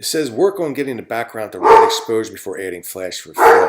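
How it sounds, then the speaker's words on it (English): A dog barks in the background, intermittent and partly masked, while a person keeps talking steadily over it. "Sorry about the dog in the background."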